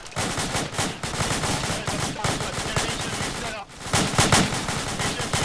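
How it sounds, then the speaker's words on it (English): Heavy machine gun (HMG) firing in sustained, dense bursts with a short gap partway through, loud and continuous throughout. "They got an HMG on that!"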